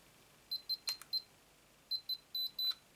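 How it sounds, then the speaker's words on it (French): Two quick runs of short electronic beeps, about four each, high-pitched and clear against a quiet background, from an RC car radio transmitter with its throttle at neutral. "Cette radio a bip sonore."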